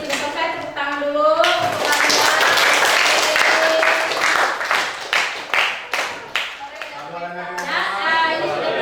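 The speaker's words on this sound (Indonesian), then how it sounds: "Tepuk tangan dulu." A classroom of students claps together at the end of an Indonesian-language lesson, a brief burst of hand claps over children's chatter and voices, with speech resuming as the applause fades.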